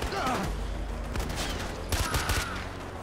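Rapid gunfire bursts in Far Cry 4 with a steady game soundscape underneath, a dense volley of shots near the start and another cluster about two seconds in.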